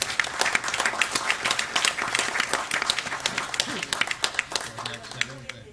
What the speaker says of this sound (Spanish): Vamos a darle un aplauso a nuestro secretario.